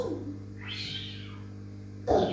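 A single cat meow voiced by a storyteller, with a rising, whiny tone, heard close and alone over a steady low hum, with a brief noisy burst at the end.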